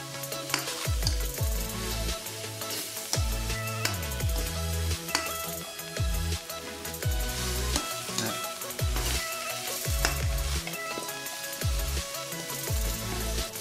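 Pork bones stir-fried with curry paste in an electric pan for a northern Thai curry: steady sizzling with repeated scraping and clanking of the utensil, close and continuous, without speech.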